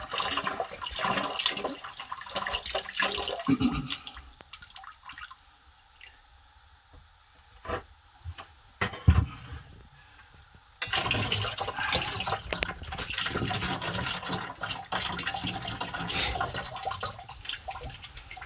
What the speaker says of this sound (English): So that'll drain all the water that was in this Cylinder.